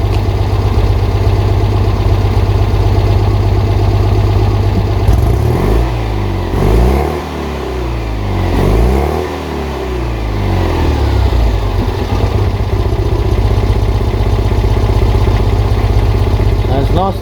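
A car engine idling loudly and close through a newly fitted exhaust, a deep rumbling tailpipe note that briefly rises and falls in a couple of revs before settling back.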